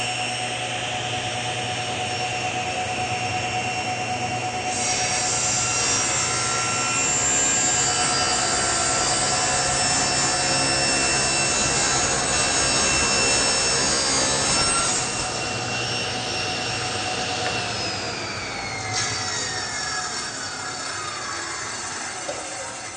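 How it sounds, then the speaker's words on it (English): Table saw with a sled cutting a two-sided taper on a wooden furniture leg: a loud, continuous motor whine with a rising blade roar through the cut, then a pitch drop as the blade winds down. "So that was cutting a two-sided taper."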